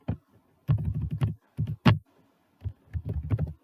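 Typing on a computer keyboard while writing HTML code, heard as close, quiet clusters of soft key clicks in irregular bursts separated by short pauses.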